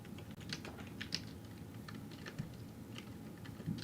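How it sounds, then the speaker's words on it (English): Quick, uneven tapping on a computer keyboard up close, with irregular clicks and brief pauses over a soft background hum. "I'm typing like a child."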